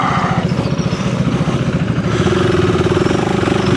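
A Honda CRF300L motorcycle runs off road in second gear at low speed, its engine chugging in a steady, pulsing rhythm that picks up slightly in pace, close and loud with wind noise.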